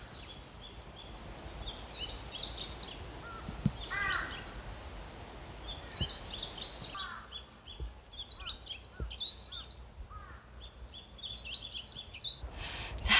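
Bird calls ring out in repeated bursts on a hill trail in spring, harsh caw-like cries mixed with chirps, moderately distant over a steady outdoor hiss.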